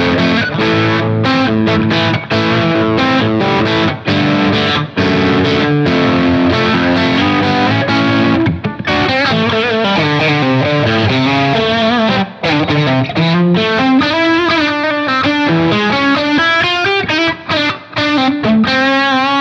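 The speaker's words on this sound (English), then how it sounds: "I have a Friedman B100 pulled up on my Helix as my amp for my distortion sound on the pickup" Heavily distorted electric guitar, a J Craft S3 S-style through a Friedman B100 amp model on a Helix, plays a continuous riff with sustained, gritty chords and bends, loud and up close with no talking.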